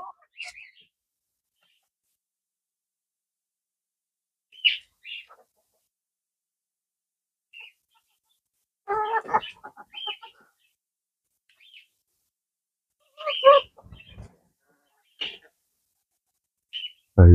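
Sparrows flitting about in dense vegetation near a backyard run of hens and rabbits, giving short scattered chirps and tweets, mostly faint, with a few louder bursts of calls around the middle.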